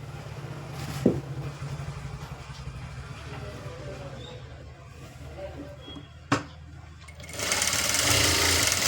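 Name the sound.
sewing machine stitching a blouse side seam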